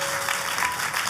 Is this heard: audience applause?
yes